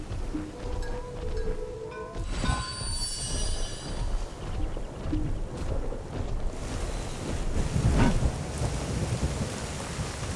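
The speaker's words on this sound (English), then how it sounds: "Oh, it's raining now." Steady loud rainfall in the video game Skull Island: Rise of Kong, with a low rumbling underneath, continuous throughout and no voices.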